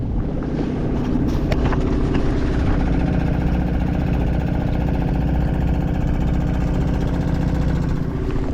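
An electric outboard motor on a boat throttled down to idle, giving a steady low hum under constant wind buffeting on the microphone and water noise, with no talk.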